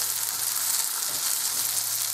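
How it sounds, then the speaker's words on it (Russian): Syrniki, Russian cheese pancakes, frying in a pan with the lid on: a steady, even sizzle of hot oil, close and continuous, with no talking. "Вот они жарятся."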